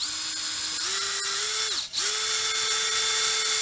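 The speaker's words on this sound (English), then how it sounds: "now I need the drill" A power drill whirs steadily while working on a handmade wooden snowman, its motor pitch stepping up in stages, with a brief stop and restart partway through; loud and close, with no talking.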